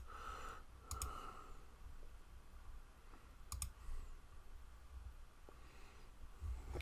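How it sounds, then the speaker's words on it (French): Computer mouse clicks while working in Photoshop, a few sparse, sharp, faint clicks spaced seconds apart in a quiet room. "Je vais cliquer un petit peu."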